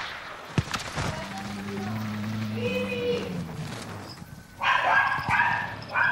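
A female dog barks and whines nearby, with a drawn-out tonal whimper followed by a louder burst of yips and barks, over a background of game sounds and voices.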